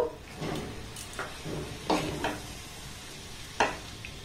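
Rice flour batter mixed with water and other ingredients in a bowl for coconut pitha, heard as a few quiet, separate scraping strokes of a spoon with short pauses between them.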